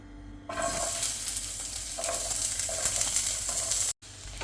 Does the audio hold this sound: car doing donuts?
no